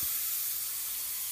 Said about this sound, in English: I've already done a test spray,